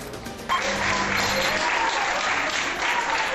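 Intensive care doctors in a hospital break into sustained, loud applause that starts abruptly and continues steadily as they thank their nursing colleagues.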